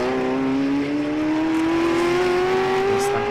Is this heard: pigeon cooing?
no